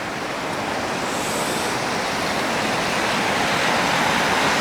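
Water flows steadily through woods at night, a continuous broadband rush with no pauses, moderately loud and close, with no voices.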